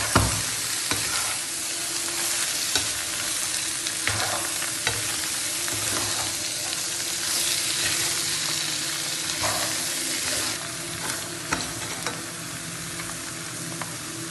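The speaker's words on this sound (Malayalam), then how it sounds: "ഇനി ഇതെല്ലാം കൂടി നമുക്കൊന്ന് ഇളക്കി നന്നായിട്ട് യോജിപ്പിച്ച് കൊടുക്കാം." Kerala-style liver fry stirred in a pan: a loud, continuous close sizzle with repeated spatula scrapes and clinks throughout, and no speech.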